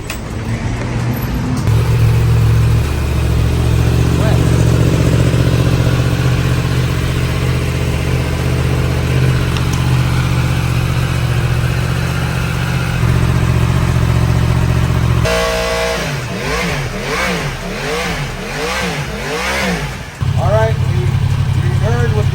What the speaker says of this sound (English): I'm gonna fire this bike up for you guys so you can hear the before sound